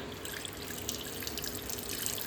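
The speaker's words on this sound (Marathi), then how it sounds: "त्यामध्ये पाणी घालून स्वच्छ ते पोहे धुवून घेतले" Steady running water swishes and sloshes in a bowl of flattened rice (poha), a soft continuous rinsing sound with no voices.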